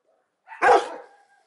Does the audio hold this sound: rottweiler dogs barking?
yes